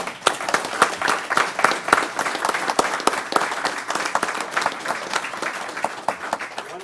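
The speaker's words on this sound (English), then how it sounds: "Give 'em a round of Good applause" Audience at a county board of commissioners meeting claps in a steady, dense round of applause with sharp individual claps standing out, fairly close and lasting throughout.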